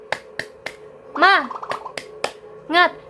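Children in a classroom perform a rhythmic clap chant, sharp single claps spaced in a pattern alternating with loud shouted chant words, close and crisp.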